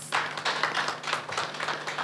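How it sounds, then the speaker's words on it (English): An audience at an advocacy breakfast panel event claps for the panelists, producing a brief burst of moderately loud, dense applause with rapid overlapping hand claps. "Can we clap hands for my panelists?"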